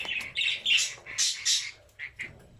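A cluster of 43 newly bought birds, males and females, squawks and chirps in quick, uneven bursts, close and fairly loud with short pauses between calls.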